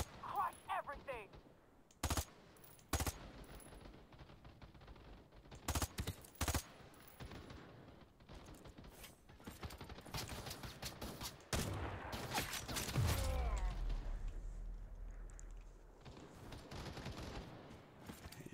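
M16 rifle fire in a battle video game: repeated bursts of automatic gunfire crackle through a busy mix with other weapons and explosions, a heavy boom rumbling near the middle, and voices speaking throughout.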